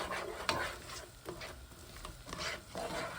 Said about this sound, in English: Mix some onions with the butter.